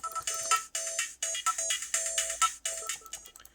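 Menu music from the Astro City Mini video game console: bright electronic synth phrases in short, repeating bursts with small gaps between them, clear and alone with no talk.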